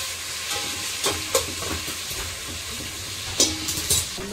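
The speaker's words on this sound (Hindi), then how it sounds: "ऑयल गरम हो गया है। प्याज डाल रही हूँ" Chopped onions hit hot oil in a home kitchen pan and sizzle steadily, with a few sharp clinks and scrapes from stirring a spoon against the pan.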